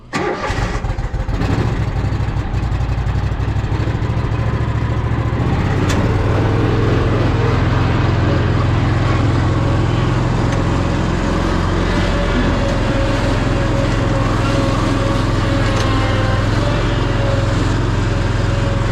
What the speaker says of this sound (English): And it's a smooth running mower, man.